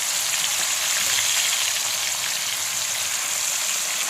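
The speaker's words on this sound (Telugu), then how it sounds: "పచ్చి ముక్కలు వేయించేయడమేనండి" Raw chicken pieces fry in hot oil, a steady, dense sizzle and crackle filling the whole stretch at an even, fairly loud level, with no voices.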